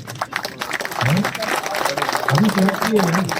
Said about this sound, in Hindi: ये तालियां तो ठंडी हो रही है